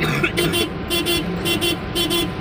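A vehicle horn honks in a rapid series of short toots over a steady engine rumble, close by.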